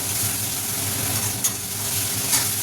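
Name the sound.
stirring pointed gourds frying in oil in a pan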